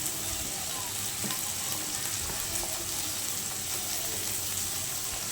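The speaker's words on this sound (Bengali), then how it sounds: "চলো মশলাগুলো বেশ ভালো করে আমি ভেজে নিলাম সবজিগুলো। এবার একে একে আমি টমেটো কুচি দিয়ে দিলাম।" Spices, vegetables and chopped tomatoes frying in a pan, a steady soft sizzle with faint scattered clicks of stirring, close and fairly quiet with no voices.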